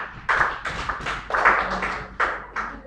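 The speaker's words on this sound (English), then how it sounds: "A round of applause for us" A small group claps in an irregular series of sharp, close bursts, about seven or eight, with short gaps between them and no voices.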